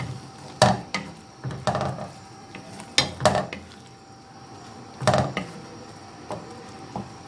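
Several hard clinks and scrapes of a spoon or spatula stirring mussels with ketchup in a pan over medium heat, irregular and spaced a second or two apart, close and moderately loud.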